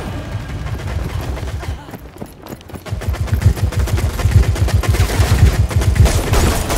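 SMG gunfire in the shooter Rogue Company, rapid sustained automatic bursts that build louder after a short lull and continue dense and close to the end.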